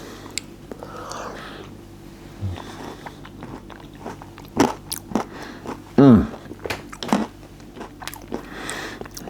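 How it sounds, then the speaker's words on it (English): Close bites and chews of crunchy granola mixed with chocolate give sharp, crackling crunches that come in bursts over quiet mouth sounds, with soft talk in between. "Like the crunch of the granola and the chocolate."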